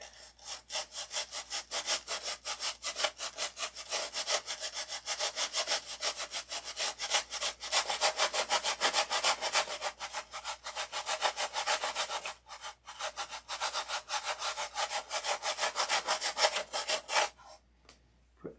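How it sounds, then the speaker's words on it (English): Sanding a balsa model airplane fuselage for a Sig Magnum, brisk back-and-forth rasping strokes in a steady rhythm, close and fairly loud, with a few brief pauses and the scraping cutting off near the end. "let's sand with this."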